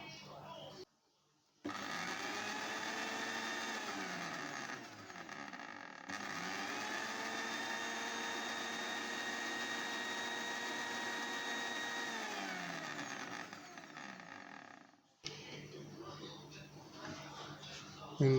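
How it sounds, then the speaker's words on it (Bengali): A blender whirring through keto mayonnaise as oil is added bit by bit. The motor whines steadily up close for about thirteen seconds, its pitch shifting as the mixture thickens, with brief pauses before and after. "এবার আমরা এটাকে ব্লেন্ড করব, অল্প অল্প করে তেল দিয়ে দিয়ে আমরা ব্লেন্ড করতে থাকবো।"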